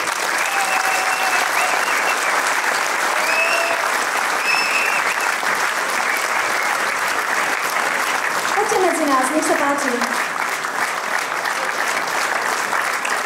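Audience applause at a folk ensemble's 65th anniversary show in a cinema hall in Snina, welcoming former ensemble leaders to the stage; sustained, dense clapping fills the room while a host speaks over it.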